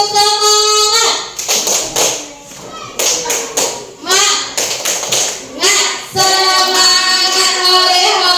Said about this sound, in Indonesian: marilah kita semua bertepuk semangat dulu. Tepuk semangat.